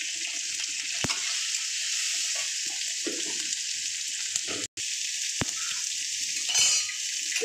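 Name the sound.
chopped tomatoes sizzling in pan for mixed veg curry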